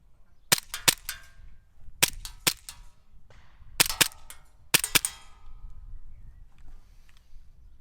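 ASG CZ Shadow 2 airsoft pistol fires in sharp, snappy pops that come in quick pairs and small clusters spaced about a second apart, close and crisp with no voices.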